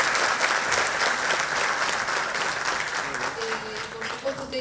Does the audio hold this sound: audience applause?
yes